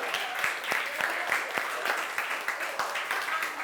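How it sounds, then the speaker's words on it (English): A class applauds after a student's biographical presentation, a dense, fairly close patter of clapping with a few distinct sharper claps and some voices mixed in. "let's give her a round of applause"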